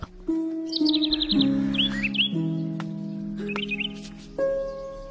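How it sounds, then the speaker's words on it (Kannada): Birds chirp in quick bright bursts, a cluster early and a few more later, over steady sustained musical tones in a Kannada film scene. "ಹಕ್ಕಿಗಳು ಕಲರವ ಕೇಳಿಸ್ದಾಗೆಲ್ಲ"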